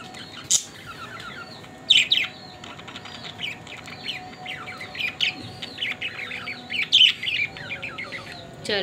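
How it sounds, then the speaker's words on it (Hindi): Pet parrots kept at home give repeated sharp squawks and chirps in bursts, loud and close, over a low background hum, with no talking. "और यहाँ पर हमारे तोते, और माशाल्लाह से हमारी तोती बिल्कुल फिट हो गई है"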